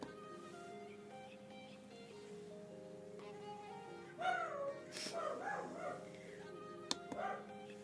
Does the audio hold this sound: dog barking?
yes